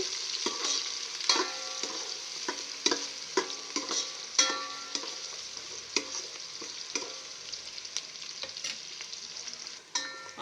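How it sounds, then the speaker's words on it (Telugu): Onions sizzle steadily in a hot pan for bagara rice, with sharp clinks and scrapes from stirring scattered throughout, close and without talk. "ఆనియన్స్ కొంచెం వేగనివ్వాలండి"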